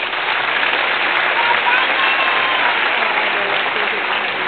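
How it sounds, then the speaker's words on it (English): Graduates and guests at a graduation ceremony break into sustained, even applause, a loud, dense roar of many hands clapping with no pauses. "My beloved graduates, please give them a big round of applause."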